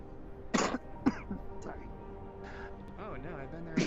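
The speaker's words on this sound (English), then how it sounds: "Get a cough there" Someone gives a couple of short coughs and clears their throat, close and fairly faint, with muffled talking around them.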